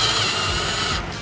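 Power drill driving and tightening screws on a Kaabo Wolf Warrior King electric scooter, a steady close whirring buzz running for just over a second before easing off at the end.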